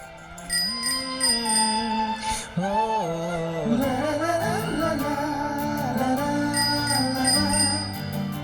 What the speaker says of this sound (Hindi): साइकिल की घंटी चेक कर रही हूँ